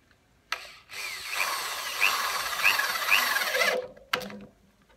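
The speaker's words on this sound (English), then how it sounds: "Just whacking one screw in it." Power drill drives a single screw into lattice while installing a lattice clip, a close, steady whirring drone with rising squeals that runs for about three and a half seconds, then a brief click.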